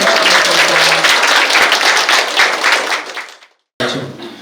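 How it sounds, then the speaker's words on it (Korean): Loud audience clapping at the opening ceremony of an elementary school childcare center, dense applause fading out over three and a half seconds, then a brief silence before a new sound starts. "박수 다시 한번"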